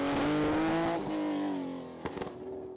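A classic Porsche Carrera RS race car at a hill climb revs hard with a loud, rising engine note, then a brief gap and a few sharp crackling pops as it pulls away.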